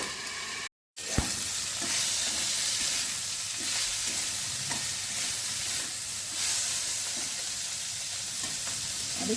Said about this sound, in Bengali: উচ্ছেগুলো ভেজে নিচ্ছি